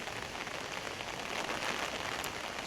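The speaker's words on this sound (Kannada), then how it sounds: "ಆದರೆ ಮಳೆ ಇದೆ, ಫಾಲ್ಸ್ ಕಾಣಲ್ಲ ಅನಿಸುತ್ತೆ" Monsoon rain falls at Unchalli Falls as a dense, even hiss of drops on surfaces, close and continuous for the whole moment, with no voices.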